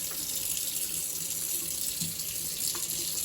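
Cold tap water runs steadily from a faucet to rinse a cyanotype print, a continuous close hiss of flowing water with faint splashes and no talking.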